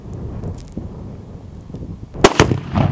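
A handgun fires twice in quick succession, two sharp close cracks that break through a quiet room murmur, with no talking.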